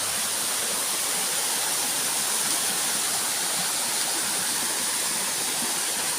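A waterfall near the foot of a reservoir at Huai Huat, Thailand, running full after days of rain, gives a steady, dense roar of rushing water that holds unchanged and close throughout, with no voices.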